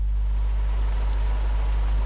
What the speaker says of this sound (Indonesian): Hujannya kalau di MP ini cepet hilang kok.